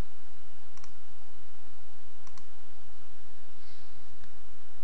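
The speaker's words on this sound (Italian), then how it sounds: "clic con il tasto destro del mouse e selezionando la voce Nascondi diapositiva" A computer mouse right button clicks a few times, sharp and faint against a steady hiss of background noise with no voices.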